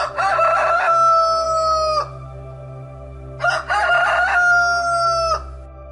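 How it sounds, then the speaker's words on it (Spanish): A rooster crows twice, loud and close, each long cock-a-doodle-doo call separated by a short pause, heard alone over a low steady hum. "Y enseguida cantó un gallo."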